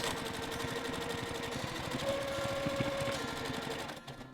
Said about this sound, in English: I'm just going to go forward a little bit, and then I will do a back stitch because we want it to be really nice and strong.